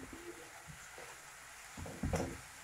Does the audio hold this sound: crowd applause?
no